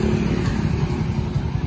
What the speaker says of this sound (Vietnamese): xe đang nổ máy